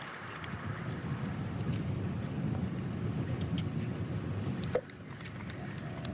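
Gusty wind sweeps across a golf course at the LOTTE tournament, a steady close roar and rumble that holds throughout with one brief sharp gust-like bump near the end.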